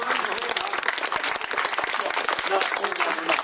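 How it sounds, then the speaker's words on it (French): A crowd claps steadily and continuously, with dense overlapping hand claps and some voices mixed in underneath. "On va l'applaudir, Michel."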